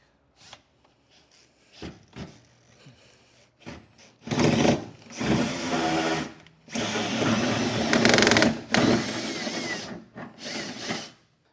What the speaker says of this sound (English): and we'll get this drilled out.